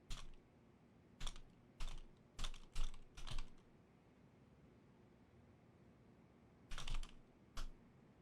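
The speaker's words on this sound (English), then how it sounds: "Moon is just typing." Keys clack on a computer keyboard in short scattered bursts, a handful of quick taps with pauses between, then a final pair after a silent gap; close and fairly quiet.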